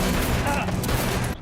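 Gunshots in a TV show scene burst out as a dense, loud volley of overlapping shots lasting over a second, then cutting off abruptly.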